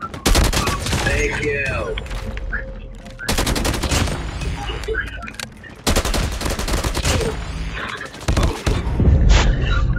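Rapid bursts of SKS rifle fire in a multiplayer shooter game, loud repeated volleys in several clusters across the stretch, with a brief voice speaking between shots.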